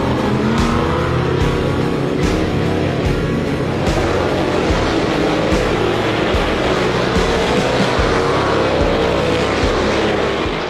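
Modified and sportsman race cars roar around a track in a race final, a loud, continuous engine drone with rising and falling passes, alone and without talk throughout.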